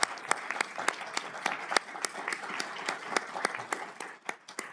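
Applause from a crowd at a county commissioners' board meeting, steady clapping with sharp individual claps standing out, moderately close and continuing throughout.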